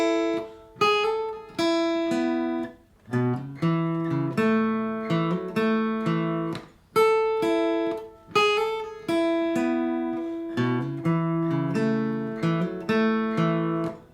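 Acoustic guitar playing a song's riff, strummed chords in a steady repeating pattern with ringing notes, close and clear with no talking.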